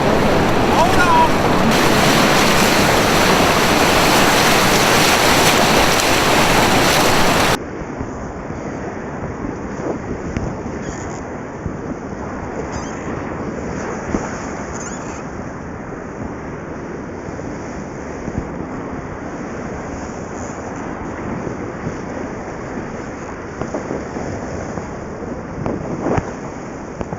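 Small fishing boat pounding through choppy waves on a rising river, with loud splashing and wind rush for the first several seconds, then a steady lower hum of motor, water and wind noise for the rest.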